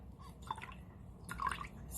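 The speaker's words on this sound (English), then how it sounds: "Squeeze out some of the water" Water drips from a squeezed, soaked paper towel into a container, with a few small, close drips and light trickles in a quiet room.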